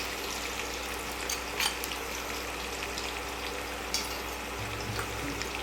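Chopped onions, about a cup, frying in a pan with biryani masala for dhaba-style mutton curry, giving a steady soft sizzle with a few faint stirring clicks.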